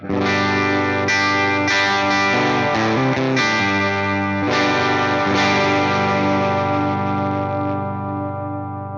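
Heavy, distorted guitar tones from a Fender Tone Master Pro bass preset struck loudly several times in a row, each ringing out with thick effects, the final one slowly fading.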